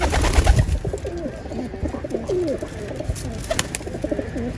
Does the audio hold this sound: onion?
no